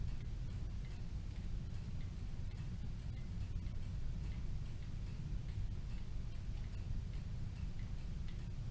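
A Kienzle Vienna regulator clock ticks at a steady, even pace after repair, the regular beats carrying alone over a continuous low rumble with no voices.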